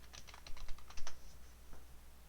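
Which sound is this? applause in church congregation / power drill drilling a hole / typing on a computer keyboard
typing on a computer keyboard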